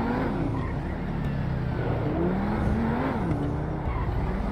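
An SSC Tuatara hypercar in GTA V drives at speed, a steady engine drone with shifting pitch and faint tire noise, loud and continuous.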